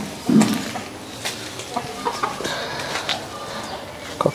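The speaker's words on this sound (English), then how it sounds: "Here's some chicken chilling out." Chickens on a small organic farm in Bangladesh give soft clucks and short calls nearby, scattered over a faint outdoor background with a few brief louder bursts.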